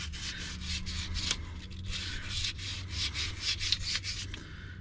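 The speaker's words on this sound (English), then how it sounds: "I got a little bit of sandpaper." An engine part from a 1994 Dodge Dakota with a 5.2L V8 is rubbed by hand with sandpaper, a steady close scratchy back-and-forth scrubbing in quick rhythmic strokes over a low background hum.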